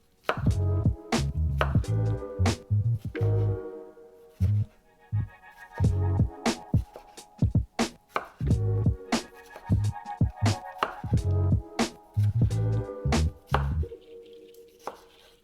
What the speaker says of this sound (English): Lay the two halves on top of each other and cut it diagonally in bite-sized pieces.